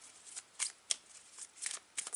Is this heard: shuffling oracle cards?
yes